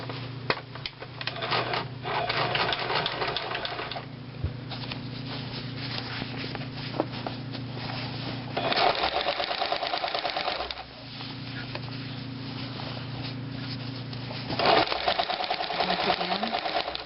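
A sewing machine stitches a striped cushion cover in several loud, steady runs, pausing briefly between bursts as the fabric is adjusted.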